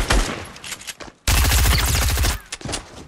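Rapid automatic gunfire in Fortnite's Getaway battle royale mode, loud and close: short bursts at first, then a sustained stream of shots lasting over a second, followed by a few scattered trailing shots.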